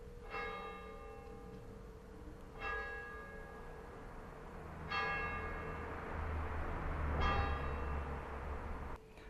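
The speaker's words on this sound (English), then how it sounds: "you can hear the bells dinging" Church bells in rural France toll slowly and sonorously, each strike ringing out with long resonant decay over a low background hum, heard from some distance.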